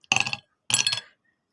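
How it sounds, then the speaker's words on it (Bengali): Two ice cubes clink into a glass one after the other, two short bright chinks about half a second apart in a quiet room, with no talking. "এবার সার্ভ করার জন্য আমি নিয়ে নিচ্ছি 2 টুকরো বরফ।"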